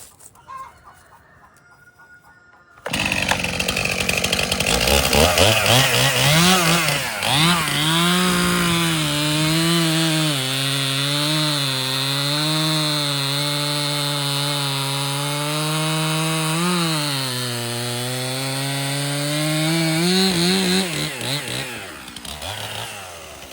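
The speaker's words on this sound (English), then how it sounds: "First, I will run my Stihl." A Stihl chainsaw starts after a quiet moment and runs loud and steady for about twenty seconds, its engine pitch bending lower and rising again as it bites into wood, then rising toward the end.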